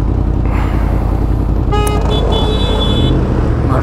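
Car horns honk in a Paris traffic jam just after a light turns green, a sustained harmonic toot cutting through loud, steady engine and road rumble, followed by a second higher horn tone.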